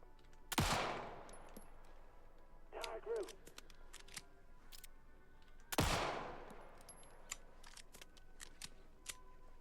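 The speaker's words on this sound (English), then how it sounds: "Can I shoot the cans?" Two sharp, loud gunshots in the video game Alan Wake 2, fired at cans, each with a ringing decay, separated by a few seconds with small clicks and a brief sound between.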